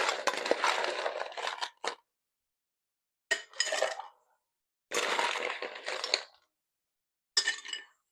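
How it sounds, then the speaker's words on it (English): Ice cubes poured into a cocktail stirring glass for an apple brandy old fashioned, four bursts of rattling, clinking cubes separated by silence, close and crisp. "we're going to add ice to our stirring vessel."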